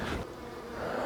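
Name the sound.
honey bees buzzing during hive inspection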